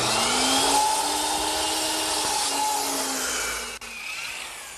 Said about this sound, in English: now I'm going to bring it over to my miter box and cut it back at about 33 degrees